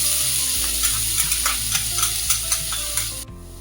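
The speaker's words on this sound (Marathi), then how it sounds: "1 चमचा मोहरी, 1 चमचा जिरे, छान फुललं असं की त्याच्यामध्ये कांदा टाकून घेऊया." Onion goes into hot oil with mustard seeds and cumin, sizzling steadily at close range while a spoon stirs the pan in a run of soft scraping taps, and the sizzle drops away sharply at the end.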